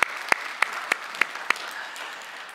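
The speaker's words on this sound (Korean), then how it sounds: "저희가 하나님께 박수로 감사를 표현하기 바랍니다." A church congregation at a Sunday worship service claps in thanksgiving. Loud, evenly spaced claps land about every third of a second over a softer crowd of clapping for roughly two and a half seconds.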